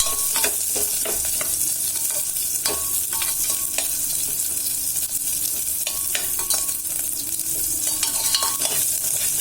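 Onions fry in a pan for brinjal pulao with a steady, bright sizzle throughout, broken by scattered scraping clicks of stirring, close and without speech.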